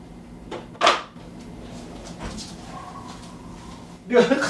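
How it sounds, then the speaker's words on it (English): A dog barks in a few sharp, muffled bursts from just outside the door, heard through a wall, with quiet room noise between the barks. "There's a dog having a fit just outside the door."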